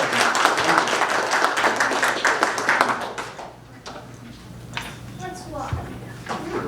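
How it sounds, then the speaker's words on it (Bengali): A roomful of people give hearty applause at a family Thanksgiving prayer meeting, thick rapid clapping for about three seconds that fades out, followed by a speaker talking over a few scattered claps. "আমরা সকলে তোমার একটা জোরে হাততালি দিই"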